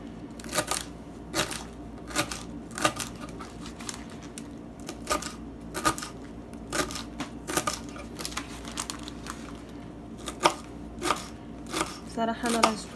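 A knife slices cabbage leaves into long thin strips on a board, giving crisp, evenly spaced chops at a steady rhythm, with someone talking at times between the cuts.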